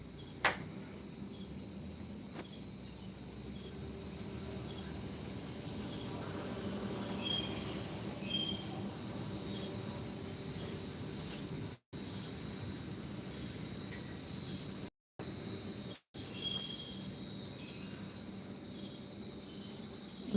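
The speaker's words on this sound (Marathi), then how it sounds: "रातकिडे त्यांचा आवाज असतो ना ताई" Crickets chirp steadily outdoors at night, a dense, even trill that carries on throughout with a few brief dropouts.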